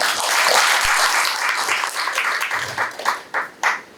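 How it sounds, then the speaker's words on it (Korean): Audience applause at a National Assembly Library policy colloquium on AI legislation. A dense, steady round of clapping thins out to a few scattered individual claps near the end. "그러면 다시 한번 박수로 이렇게 모시도록 하겠습니다."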